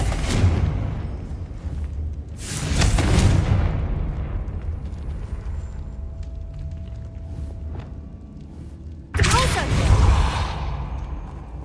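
Confringo fire-spell blasts in the video game Hogwarts Legacy, heavy booming explosions with whooshing bursts, one near the start, another around three seconds and a loud one near the end, separated by low rumbling ambience.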